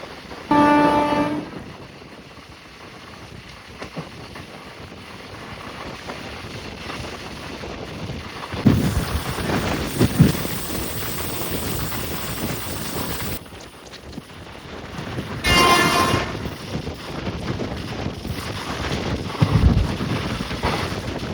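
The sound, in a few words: Kuvempu Express train running at speed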